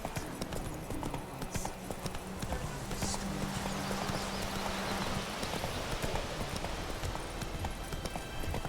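Roach the horse gallops in The Witcher 3: a quick, even clip-clop of hooves that runs steadily from start to finish at moderate distance, set against a soft ambient wash.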